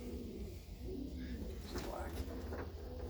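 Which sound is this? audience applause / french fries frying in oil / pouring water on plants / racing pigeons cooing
racing pigeons cooing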